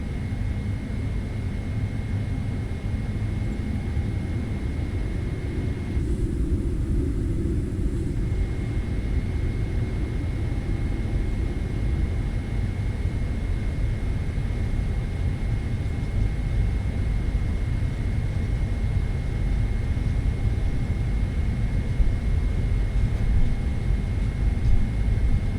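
A PMDG Boeing 777-300ER taxiing at night at Singapore in Microsoft Flight Simulator 2024, a steady low jet-engine rumble and whine holding evenly throughout with no talk.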